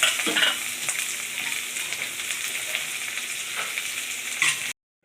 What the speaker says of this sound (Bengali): এই সর্ষের তেলটা দিয়ে দিচ্ছি আমার কেটে কেটে সব ধুয়ে নিলাম পেঁয়াজ কাঁচা লঙ্কা এরপর দিয়ে দিচ্ছি